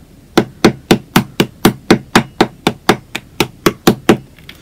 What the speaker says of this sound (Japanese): ここをベアリングの穴に押し当ててハンマーで叩きます。